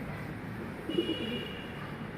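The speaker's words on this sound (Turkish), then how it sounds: "Üç kuş var şu an çatıda." Pigeons on a rooftop give a brief, soft, low coo or two amid faint outdoor ambience, quiet and somewhat distant.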